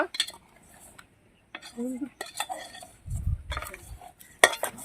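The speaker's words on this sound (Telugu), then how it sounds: "ఇక దీని మొత్తాన్ని బాగా కలుపుకోవాలండి" Mango seed stew is stirred in a cooking pot, with irregular scraping and clinking of a utensil against the pot in short bursts and pauses, close and moderately loud.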